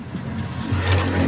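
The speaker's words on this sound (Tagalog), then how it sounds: "Plus, malapit pa tayo sa highway. Maingay yung mga dumadaan na sasakyan." Vehicles on a nearby highway pass as a low, steady rumble of engines and tires, with one vehicle's drone swelling slightly toward the end. No one speaks.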